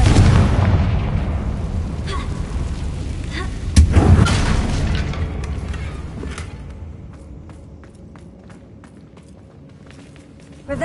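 A Confringo blast spell fired in Hogwarts Legacy, a loud booming burst that hits suddenly and rolls off into a decaying rumble, with a second sharp impact at the very end.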